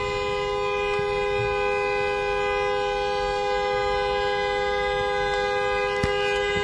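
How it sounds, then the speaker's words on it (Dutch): A car's horn, on a broken-down car on the Dutch A4/A44 motorway, sounds as one unbroken, steady, loud tone held for the whole stretch without a pause, over a faint roadside rumble. "Ik wil het toeteren."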